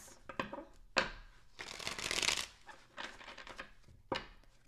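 Tarot cards shuffled by hand at close range, a run of crisp riffling and flicking bursts with one longer dense cascade near the middle, with no talking.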